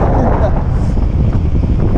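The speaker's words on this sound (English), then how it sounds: "It's pretty windy." Wind buffets the microphone in a continuous low roar, heavy and close throughout with no clear voices.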